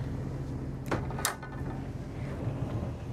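Bedroom doors in a 2023 Newmar Essex 4521 motorhome swing shut with two quick close-together knocks, one around the first second and a sharper one just after, over a low steady interior hum.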